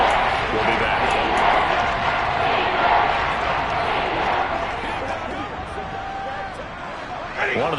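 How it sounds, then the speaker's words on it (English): Loud, continuous stadium crowd roar at an NFL game between the Seahawks and Rams as a big third down approaches, steady throughout with commentary voices underneath and a brief swell near the end. "the crowd getting into it as we come up on a big 3rd down"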